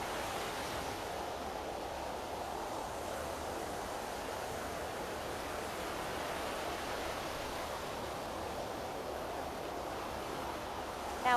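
Recorded ocean surf playing as a steady, broadband wash with a fan-like hiss, continuous and even for the whole stretch with no talk over it.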